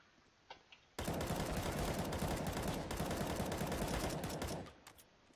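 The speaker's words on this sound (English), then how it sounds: "Are you shooting me, teammate?" Sustained automatic gunfire from CS:GO rattles in a dense, loud burst lasting about three and a half seconds, preceded by a couple of faint taps and ending abruptly.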